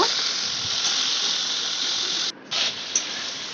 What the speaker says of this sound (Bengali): তারপর চিংড়ি মাছগুলো দিয়ে দিচ্ছি আস্তে আস্তে ভেজে নেব